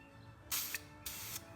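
Spray paint from an aerosol can coats a car wheel in two short, sharp hissing bursts, each lasting about a quarter second, close and fairly quiet, separated by a brief gap.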